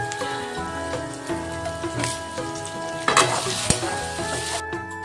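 Fish-curry spices with broken green chillies frying in oil in a pan, a busy crackling sizzle mixed with repeated stirring scrapes and a couple of louder clatters, close and continuous with no talk.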